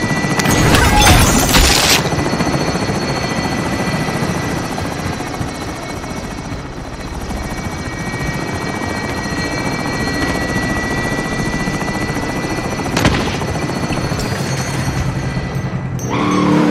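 Extraction helicopter in Call of Duty Warzone, a loud, steady rotor thrum and turbine whine holding close for the whole stretch, with a couple of sharp bangs breaking through near the start and middle.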